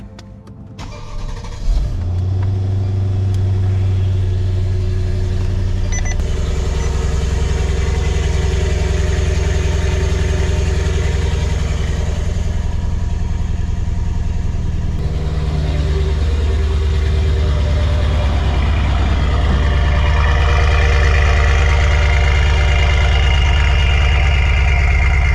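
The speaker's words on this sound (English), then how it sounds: "This is going to be a very cold start." A Mercedes S-Class starts cold with a brief crank and catch, then settles into a steady, loud, close engine idle that holds for the rest of the stretch with no talking.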